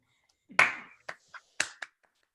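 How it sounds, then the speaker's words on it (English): Faint scattered clapping of a few hands at a film and media production senior awards show, a handful of separate claps with gaps between them in near silence. "This is weird with silent clapping"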